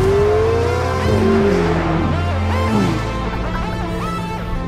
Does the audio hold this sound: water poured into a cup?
no